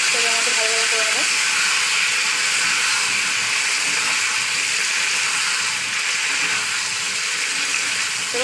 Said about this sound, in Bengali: পেঁপে আলু একসঙ্গে আমি তেলের মধ্যে ভাজা ভাজা করে নেবো।